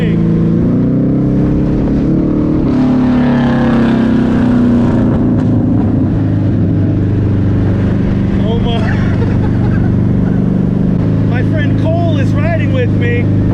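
Engine of a vintage race car, an Aston Martin DB2 or Allard J2, drones loudly and steadily from onboard, driven with only partial throttle, while someone talks over it.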